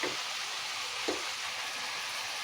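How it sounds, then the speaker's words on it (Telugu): Cabbage frying in a pan with chopped tomatoes added, giving a steady close hiss of sizzling with a couple of faint stirring scrapes and no voices. "క్యాబేజీ వేగుతుంది కదా"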